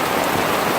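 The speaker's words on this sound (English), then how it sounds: "Getting rainy up in here." Rain falling during Hurricane Lane, a steady broadband hiss of drops on surfaces, close and continuous for the whole moment with no voices.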